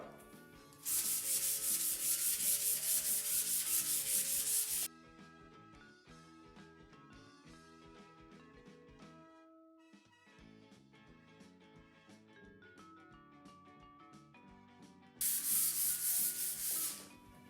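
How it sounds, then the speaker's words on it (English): Brisk hand sanding of a finish between coats in two bursts of fast, steady scratchy rubbing, close and loud, separated by a stretch of quiet music. "So I'm gonna go ahead and start sanding."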